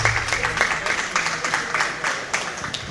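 Audience applause in a barn at a junior fair sheep show for young 4-H exhibitors and their market lambs: steady, moderately loud clapping throughout, with some background noise mixed in.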